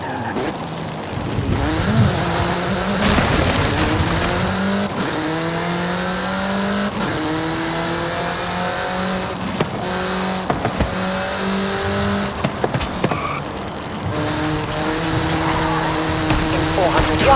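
A car engine races and revs through shifting gears at night in Forza Horizon 5, a loud, steady drone with rising and falling pitch sweeps and brief tire squeal, while a voice talks over it.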